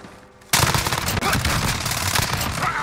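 Rapid automatic fire from a machine pistol in Modern Warfare multiplayer bursts in loud and close after a brief quiet start, then rattles on continuously with dense, overlapping shots.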